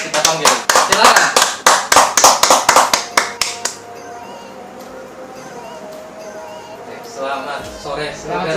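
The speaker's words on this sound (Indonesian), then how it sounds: "Mari kita buat tepuk tangan." Several seconds of crisp, close group clapping at a church talk show in a rhythmic pattern, fading into a quieter room with background murmur.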